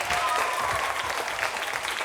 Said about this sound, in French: Et ils vont s'applaudir bien fort pour vous dire bonsoir.